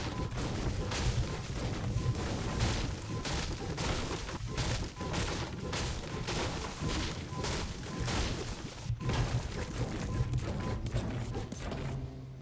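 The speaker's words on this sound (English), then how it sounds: "let's go ahead and destroy some items right now." Fortnite Battle Royale gameplay with a Double Gold pickaxe smashing items, a dense run of rapid hits, crashes and gunfire-like bursts that stays busy and fairly loud throughout, with no talking.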